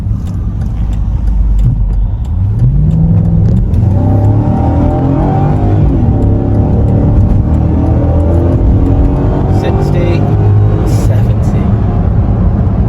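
A loud V8 engine in a Volvo XC90 SUV revs hard and climbs steadily in pitch as it accelerates up a short slip road, a deep throaty roar heard from inside the car.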